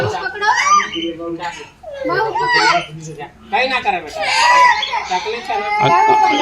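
A small boy at a jungle safari near the Statue of Unity in Gujarat shrieks in a voice imitating a bird call, loud and close, in several rising bursts with brief pauses.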